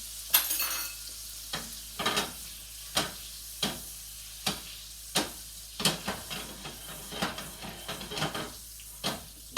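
Repeated scraping and stirring clatter in a pan, sharp regular strokes over a faint steady hiss of butter and oil frying for Wiener schnitzel, close by and fairly loud.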